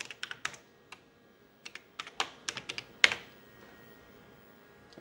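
Bursts of keystrokes on a computer keyboard while logging in to a Raspberry Pi over a WiFi modem from a Tandy 1000 HX, quick clusters of clicks with pauses between and one louder final key press, close and clear with no voices.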